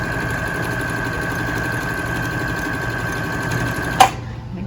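A sewing machine stitches a quilted tote and runs over a strap, a steady close mechanical whir with a constant hum that stops abruptly with a small clunk near the end.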